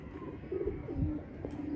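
Pigeons cooing softly nearby, a few low, short throaty coos in quick succession, faint and alone.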